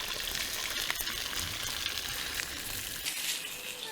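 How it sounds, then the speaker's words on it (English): Sausages sizzle over an open cooking fire at a medieval re-enactment camp, giving a close, steady crackling hiss that runs unbroken with no talk. "I can hear sizzling and boiling."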